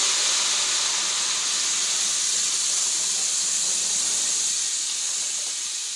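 Chana and moong lentils go into hot oil with browned ginger garlic paste, giving off a loud, steady sizzling hiss that holds for several seconds and fades only slightly toward the end.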